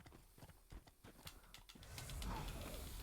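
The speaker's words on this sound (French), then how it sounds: "Rien qu'entendre leurs sabots qui se précipitent vers moi" Hooves of charging enemies in Dark Souls 3 clatter in quick irregular clip-clop beats up close, then give way to a louder rushing game noise.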